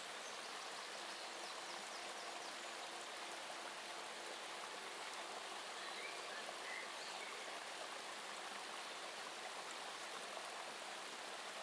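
River water flowing steadily, a dense constant hiss of rushing, rippling water with fine lapping detail, close and even throughout with no voices.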